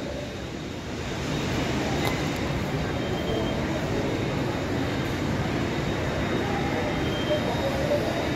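A Pune metro train runs through the underground level of a station, giving a steady, moderately quiet rumble that swells slightly after the first second and holds evenly.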